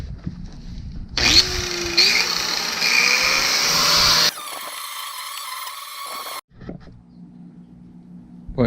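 An aluminum grinding wheel grinds down welds on an aluminum boat, giving a loud, steady, high whine that shifts pitch partway through, then cuts off and restarts briefly.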